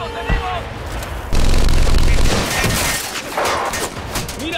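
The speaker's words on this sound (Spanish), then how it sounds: "¡Cargo! ¡Fuego! ¡Disparo!" Heavy tank gunfire in a war film battle against machine gun turrets, with crackling shots, then a loud booming blast and a rumbling roll, under shouted voices.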